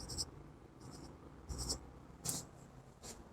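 Marker or chalk strokes on a board during an accounting lesson, several short scratchy bursts in a quiet room with no talking.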